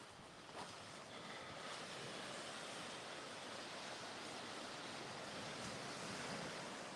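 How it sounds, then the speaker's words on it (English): Ocean surf rolling in at a beach at sunrise, a continuous loud wash of breaking waves with wind rushing across the microphone, steady throughout with no voices. "Ooh, waves are kind of rocking today."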